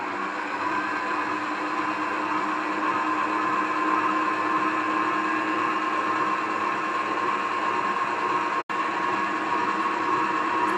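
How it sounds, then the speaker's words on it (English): Electric mixer running steadily on strawberry gateau batter, a constant close whir with one brief cut-out near the end, no talk. "Turn on our mixer. Mix all that in nice together."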